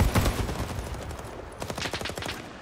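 An automatic weapon from Rising Storm 2, with the fire selector on slow mode, fires a rapid string of sharp shots, an initial loud burst followed by a steady stream of evenly spaced rounds, with no voices.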